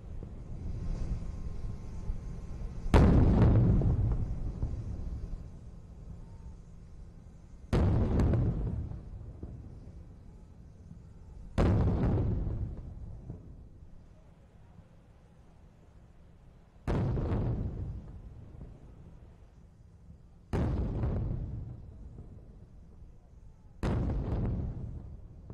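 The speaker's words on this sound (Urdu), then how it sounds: "توپوں کی سلامی دی جا رہی ہے" Ceremonial cannon salute welcoming the president of Uzbekistan: six heavy booms fire at spaced intervals, each a loud thud with a long rumbling decay, under faint crowd ambience.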